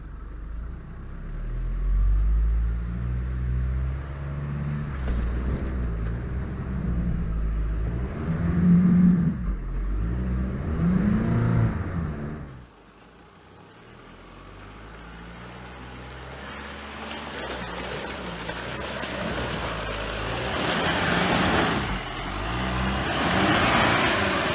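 A 2020 Chevrolet Colorado ZR2 Bison with the Duramax diesel rumbles off-road, the engine revving and surging through a rough hole, then quieting before building again, with no talk.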